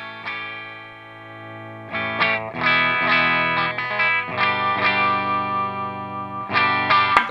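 Electric guitar played through a Line 6 POD HD500X on its Soldano clean amp model, ringing chords and picked notes with sustained tails and a chorus-like shimmer, strummed in several bursts with short pauses between.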